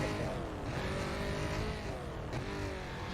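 A muscle car races around a short circuit in the video game Need for Speed: Carbon, its engine roaring steadily with rising and falling revs and a brief tire screech near the end.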